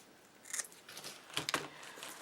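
Scissors snip through a plastic strip while a basket is built from bottle lids, giving a few sharp, close cuts in two short bursts with quiet pauses between them.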